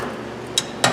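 A hammer gives two quick, bright metallic taps on a lock pin inside a Subaru Impreza ignition. The taps are close and crisp over a quiet background hum.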